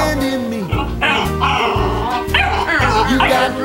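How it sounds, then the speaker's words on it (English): A dog yips, whimpers and barks repeatedly in close, loud bursts with rising whiny tones, while music with singing plays underneath. "He didn't bark around other dogs like this."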